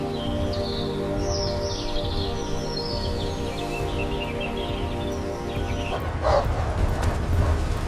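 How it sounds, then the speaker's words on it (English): Hunting hounds bay and howl in a foggy forest, several dogs calling at a distance amid birds and a steady background wash, with the cries growing a little louder toward the end. "the hounds howl"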